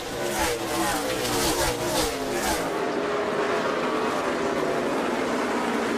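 NASCAR Cup Series race cars roar past at Bristol on the final lap, a loud, steady engine drone with rising and falling pitch and dense traffic overlapping throughout.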